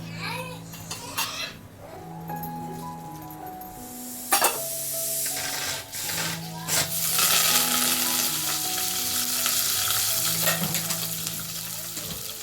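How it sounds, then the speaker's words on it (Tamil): Oil sizzles and spatters as mustard seeds, dried chilli, onion and curry leaves fry for a tempering, a steady loud hiss with stirring clatter, while faint children's voices and background tones sound in the home kitchen. "இது சிம்பிளாக எண்ணெய், கடுகு, வரமிளகா, வெங்காயம், கருவேப்பிலை போட்டுட்டு கொஞ்சமாக பெருங்காயத்தூள் வந்து போட்டுக்கோங்க."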